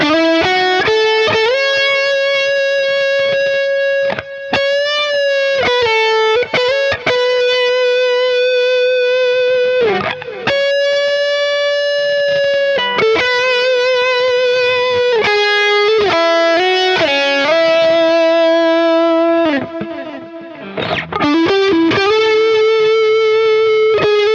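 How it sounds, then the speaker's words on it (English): Sustained distorted electric guitar lead through a Fractal modeler, playing melodic phrases, each note trailing into ping-pong delay repeats at 450 and 600 ms and ambience reverb, loud and continuous with no voices. "It's got my typical lead tone delay of 450 and 600 to get that ping pong delay."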